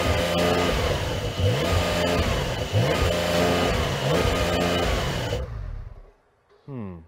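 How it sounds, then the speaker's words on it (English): A stationary Porsche 911 Carrera revs hard, its engine climbing and holding high through several close, loud bursts before cutting off to near silence, then one short final blip. "let's compare what they sound like when you rev them while stationary"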